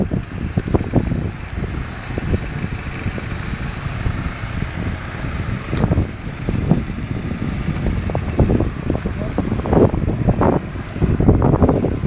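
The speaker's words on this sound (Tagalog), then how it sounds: "Hangin." Strong wind buffeting the microphone in continuous low rumbling gusts, loud and close, with no voices.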